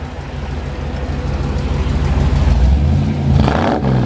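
A 1956 Chevrolet Bel Air V8 with coated headers idles with a steady, deep rumble at close range, swelling slightly louder toward the end, with no talk over it.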